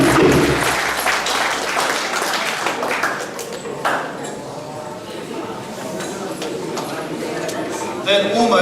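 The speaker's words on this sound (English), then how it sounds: "let's have another big round of applause" Audience applause fills a school prizegiving ceremony at Porirua College, a steady dense wash of clapping that carries on throughout, with a voice speaking briefly over it.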